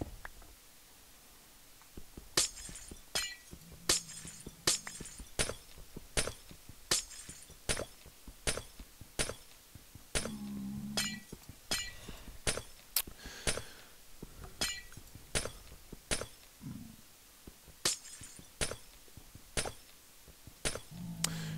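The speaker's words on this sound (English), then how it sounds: "the sound of mining glowstone has always made me think of glass, like in Minecraft" Glowstone blocks being mined in Minecraft, a long run of sharp glassy shattering cracks repeating at a brisk, fairly regular pace, each crisp and close, with a few low thuds between them.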